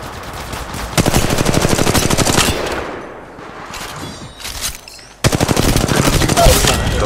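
Loud, sustained automatic gunfire in a shooter video game, dense rattling bursts with a brief lull of scattered shots in the middle before heavy firing resumes.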